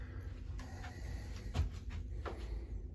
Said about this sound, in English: This is walking in through the front door.